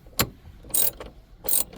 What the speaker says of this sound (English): 2 T25 Torx screws. Take them out.